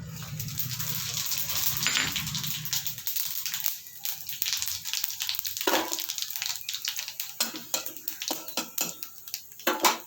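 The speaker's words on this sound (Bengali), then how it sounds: "এবার আমি ফোড়ন দিচ্ছি, হ্যাঁ, দারচিনি, এলাচ আর জিরে আর দুটো শুকনো লঙ্কা" Cinnamon, cardamom, cumin and two dried chillies hit hot oil in a pan for an aloo potol vegetarian curry, giving a bright crackling sizzle with sharp pops and clicks scattered through, close and fairly loud.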